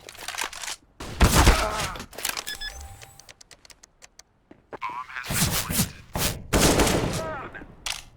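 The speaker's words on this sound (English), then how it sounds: "Flashbang." A flashbang grenade goes off in Counter-Strike: Global Offensive, a sharp loud burst among other in-game effects and gunfire, with loud bursts recurring through the clip.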